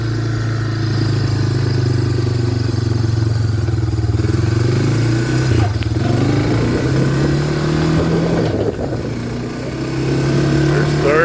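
A 1995 Honda Fourtrax 300 ATV engine runs steadily and loud up close, its drone stepping in pitch as it shifts up through the gears, with brief dips between shifts.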